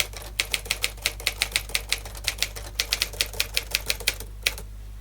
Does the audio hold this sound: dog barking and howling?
no